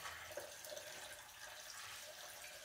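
Water poured from a bucket into a car radiator gives a continuous soft splashing and gurgling pour, faint and steady throughout.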